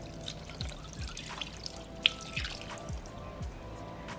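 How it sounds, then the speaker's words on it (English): Beef broth is poured into a slow cooker, giving a soft, steady liquid trickle with faint drips and splashes, heard close and quiet with no talking. "lastly, you're gonna add in your beef broth."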